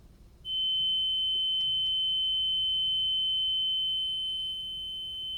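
A 3,000 hertz test tone from a frequency generator plays through a car stereo tweeter, a steady piercing pure whine that starts abruptly and holds loud and constant over a faint low background hum.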